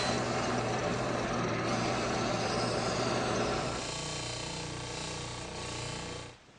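A homemade wood lathe, with a temporary pulley rigged on the tailstock shaft, grinds and smooths a point: a loud, steady grinding whir that eases slightly partway through, then cuts off abruptly near the end.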